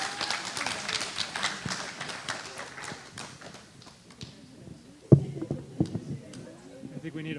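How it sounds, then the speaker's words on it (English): Applause from a board meeting audience after a swearing-in, a dense patter of many hands clapping that fades, then a few louder separate claps and stirring near the end. "Let's give them a huge round of applause"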